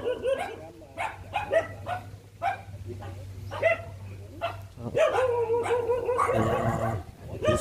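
A pack of dogs, puppies among them, barks and yips in repeated bursts at a gathering where people are drinking, the yelps growing denser and louder toward the end over a steady low hum.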